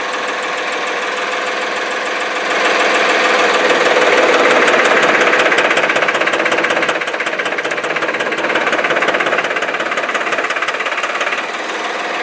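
A 2004 Farmtrac 435 tractor engine runs loud and close while reversing, a hard rhythmic diesel clatter that swells in intensity a few seconds in and holds steady, with no talking.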